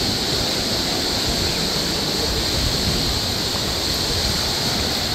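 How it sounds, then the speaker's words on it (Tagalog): Water flows and waves wash at an island beach near a sea cave at low tide, a constant, loud rushing hiss with no pauses and no voices. "Gandang agos ng tubig, oh. Ang agos ng tubig, yung waves."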